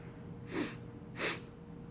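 Two short, soft breaths drawn through the nose, evenly spaced about half a second apart, close and quiet over a faint hum during a meditative breathing exercise.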